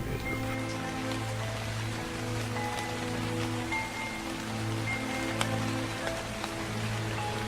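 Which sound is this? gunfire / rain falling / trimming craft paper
rain falling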